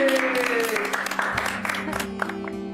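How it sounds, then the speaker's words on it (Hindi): Applause for the guest of honour at a gathering, scattered clapping from a small group that thins out over a few seconds, mixed with a steady tone and some voices. "अब गेस्ट ऑफ ऑनर के लिए तालियां तो बनती है"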